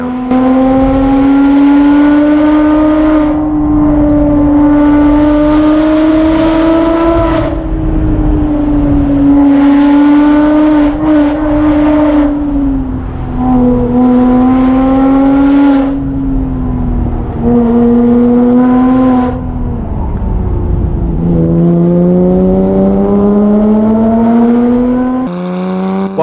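Porsche Boxster S with a Top Gear valved exhaust revs loudly and repeatedly, the engine note rising and falling in sustained pulls that carry through the whole stretch with no talk.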